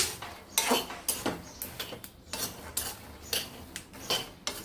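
Roasted peanuts stirred and scraped out of a pan onto a plate, a series of close clattering, rattling bursts of metal and nuts at an uneven rhythm.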